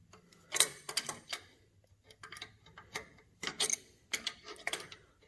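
A ratchet wrench turns on a 1963–66 Chevrolet C10 pickup during a power steering conversion. It makes quick bursts of close, crisp clicking with short pauses between them, and no one speaks.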